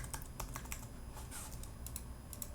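Computer keyboard keys being tapped during beat-making work in Ableton Live, a steady run of light, quick clicks close up, with a slightly louder click at the very end and no talking.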